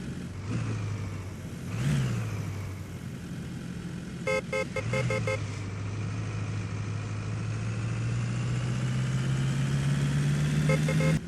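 A game vehicle towing a trolley reverses, its engine droning and whining steadily with brief revs rising and falling, accompanied by a few beeping tones, a continuous close mechanical sound without speech.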